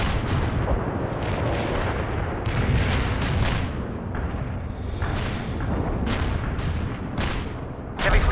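Artillery barrage in the strategy game World in Conflict: repeated heavy booms and shell impacts land one after another in a dense, continuous rumble, with sharper blasts scattered throughout and a loud hit at the very end.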